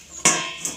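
A lid set down on a cooking pot of rice with added water, giving a sharp metallic clatter followed by a smaller second knock, close and clear with no talking.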